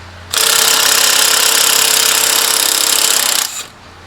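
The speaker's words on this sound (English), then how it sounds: "now I got my impact, and I'm gonna break loose my 18mm crank bolt" An impact wrench breaks loose the 18mm crank bolt on a second-generation MINI Cooper in one sustained, loud, rapid hammering burst lasting about three seconds before cutting off abruptly, with no talk over it.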